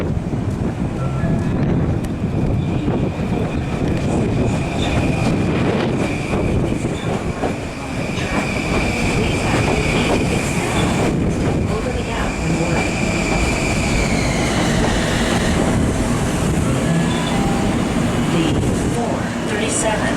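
Long Island Rail Road M9 commuter train rumbles past loudly and continuously with wind buffeting the microphone, a steady roar and a high whine rising then fading.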